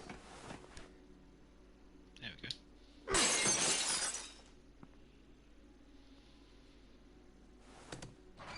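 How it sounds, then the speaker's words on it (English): Glass shatters in The Walking Dead video game, a single loud, crashing break lasting about a second amid quiet room tone and faint scattered sounds. "Then I heard the glass breaking."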